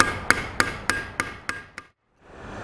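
A rivet is hammered on a 1960-63 Chevy or GMC truck vent window: seven sharp metallic blows land at a regular, quick pace, close and ringing. A brief silence follows, then faint room noise.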